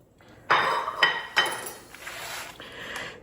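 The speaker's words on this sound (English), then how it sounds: "And let's cut into it and see what we've got." A knife cuts into a creamy peanut butter icebox pie, giving a few quiet clinks and scrapes against the dish, with a sharp tap near the start and softer scraping afterward, close by.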